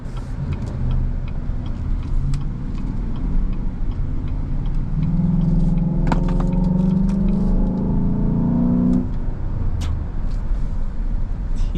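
A 2018 Chevrolet Silverado Harley Davidson pickup truck accelerates in manual low gear, its engine rising in a smooth, steady rumble heard from inside the cab with a faint rhythmic ticking.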